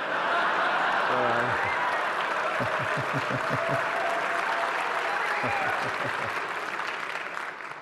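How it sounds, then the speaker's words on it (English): An audience at an award event applauds for William Shatner, a loud sustained wash of clapping with a voice briefly speaking over it, fading toward the end. "Okay, you can applaud Bill Shatner."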